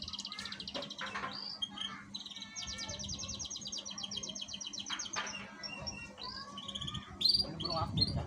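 A canary sings an active, continuous song of rapid trills and bright chirps, close and steady throughout, with faint insect-like buzzing underneath.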